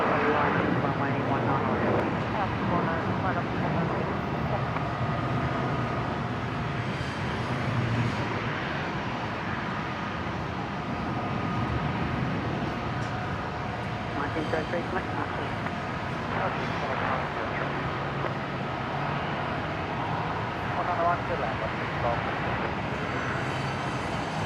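A Singapore Airlines jet rolls for takeoff on runway 19 right at Brisbane International Airport, a broad, continuous roar of jet engines heard from a distance, with people talking over it throughout.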